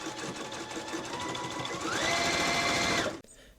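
A sewing machine stitches steadily for about three seconds, tacking elastic to the sides of a pants cuff, its whir rising in pitch as it speeds up before stopping abruptly.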